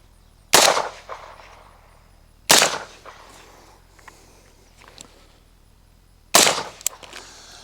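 Three sharp suppressed rifle shots through a JMac Customs Banka suppressor fitted with a 36-caliber vented cap, fired at an outdoor backstop, each a loud crack with a short tail, spaced irregularly with quiet pauses between.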